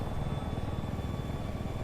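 Helicopter rotor from the video game Battlefield 4, a steady, loud, close whirring drone with a low rhythmic thump that holds without a break and has no voices over it.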